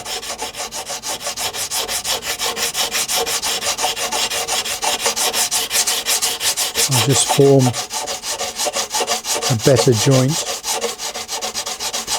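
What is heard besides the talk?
sanding balsa wood with sanding bar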